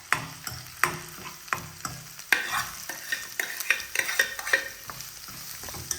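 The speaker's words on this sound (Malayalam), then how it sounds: "നന്നായിട്ട് ഇളക്കാം." Ginger, garlic and chopped onion are stirred as they fry in a pan for a soya egg fry curry. A close, steady sizzle runs under repeated sharp scraping and clinking strokes, loud and irregular throughout.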